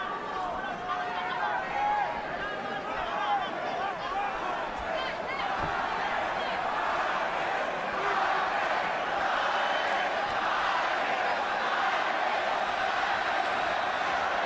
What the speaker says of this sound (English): Judging by the chants, the crowd's about 50-50.